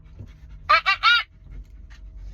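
A voice imitates a dog panting with three short, breathy voiced puffs in quick succession, close and clear in an otherwise quiet room.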